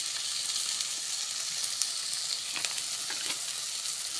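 Onions and tomatoes sautéing in a pan for a cauliflower gravy give off a steady, close sizzle with a crackle of hissing spatters and a few sharper pops, with no voices over it.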